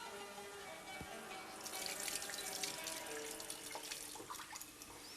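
Cinnamon being rinsed under a running tap, a faint continuous splash of water into a sink with small drips and trickles.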